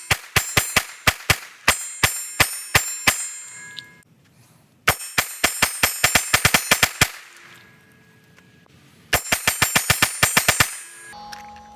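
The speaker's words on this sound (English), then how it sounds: "it's funny to see how long the ding is from the metal" A Springfield Hellcat pistol fires three rapid strings of shots at a steel target, each sharp crack followed by a bright ringing ding, with short quiet pauses between the strings.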